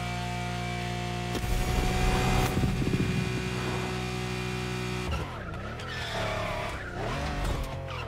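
A Lamborghini Urus SUV drifting in The Crew Motorfest, engine roaring steadily before loud tire squeal and skidding burst in, followed by wavering squeals as the car slides, close and prominent with no voices.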